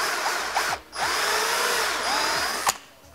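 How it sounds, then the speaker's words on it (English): Power drill boring a hole with a half-inch bit at a marked spot near a Mk5 Toyota Supra front bumper during splitter installation, a loud steady whine with brief dips as the bit bites and catches. "I'm just going to take a half inch drill bit on that mark."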